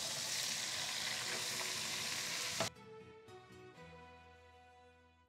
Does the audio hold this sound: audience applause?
no